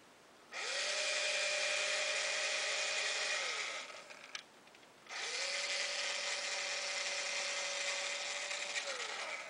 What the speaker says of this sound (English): I use it just for tapping because it turns so slow. So I tap the threads in, back the tap out.